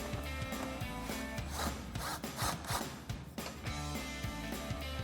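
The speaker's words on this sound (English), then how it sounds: "And we'll get our 8mm screw back in up front here." An 8mm screw being driven into the headlight mount of a 2021-2023 Ford F-150, heard as close, rhythmic rasping and scraping bursts over a steady background of music.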